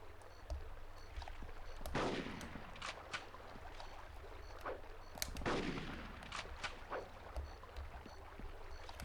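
Gunfire in Conker's Bad Fur Day: two heavy, booming shots a few seconds apart, each with a swelling roar and tail, mixed with lighter scattered pops, fairly faint overall.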